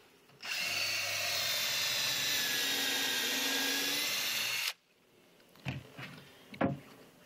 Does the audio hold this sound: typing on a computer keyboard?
no